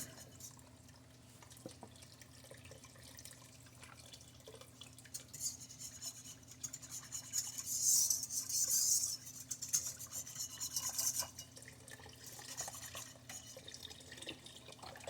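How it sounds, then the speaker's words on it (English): Tap water runs and splashes into a container, swelling to a louder rush midway, with faint dripping and rubbing before and after. No voices. "I'm going to shut this water off over here because my cup is running over."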